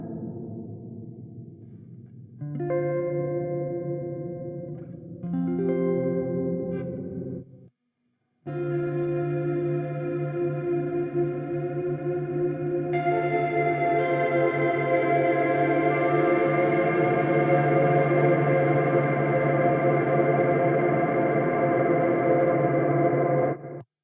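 Meris Mercury 7 reverb pedal with its expression pedal rocked back to the heel position, giving lush sustained reverberant tones that swell into a long, dense shimmering wash, played alone without talk.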